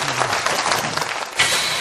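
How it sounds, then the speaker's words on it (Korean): An audience gives a big round of applause for Professor Kim Young-seok after his talk, a brief, dense burst of clapping that swells again toward the end. "큰 박수 보내드리면서"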